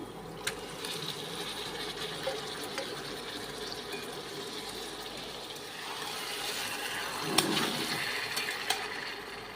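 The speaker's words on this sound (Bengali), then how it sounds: "এখন আমি মশলার মধ্যে চিকেনটা দিয়ে দিচ্ছি।" Chicken being added to a masala seasoned with Kashmiri chilli powder in a pan for chicken kosha, stirred with a steady wet sizzle and soft scraping and stirring noises, fairly quiet, with no talking.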